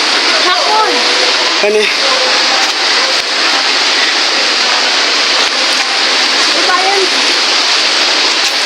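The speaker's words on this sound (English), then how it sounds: "We are getting close to the waterfall, guys." Rushing water from a nearby waterfall on a nature hike roars as a loud, steady broadband wash, with a voice speaking briefly over it.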